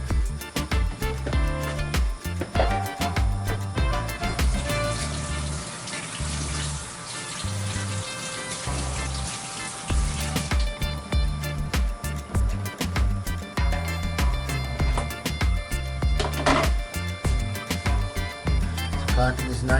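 A plantain being washed under a running kitchen tap, the water pouring loudly and steadily with splashing changes in tone as it hits the fruit and sink.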